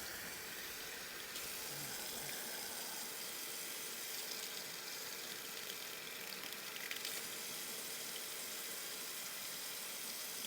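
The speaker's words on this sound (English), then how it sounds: "We're going to rinse it out. Wash it out. Rinse it out." Tap water runs steadily into a sink while drained eggshells are rinsed out, a continuous broadband splashing hiss at moderate level throughout with no talking.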